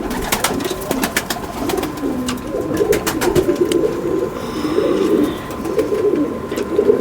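Pigeons, including a female with red markings, coo in low rolling bursts close by, overlapping and repeating throughout amid sharp clicks and faint scuffling.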